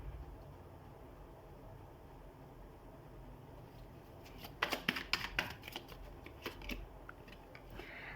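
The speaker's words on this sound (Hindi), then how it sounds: "पहले मैं कार्ड्स निकाल लेती हूँ" Tarot cards are drawn and shuffled by hand, a quiet stretch of faint rustling giving way to a run of crisp, rapid card flicks and slaps close by in the second half.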